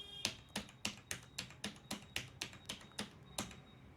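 Fingers tap out an Aadhaar card number on a computer keyboard, about a dozen crisp, evenly spaced keystrokes recorded close and quiet, with no voice.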